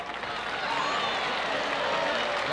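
A tennis crowd at the 1982 US Open final between Connors and Lendl keeps up a steady, distant roar of applause and cheering.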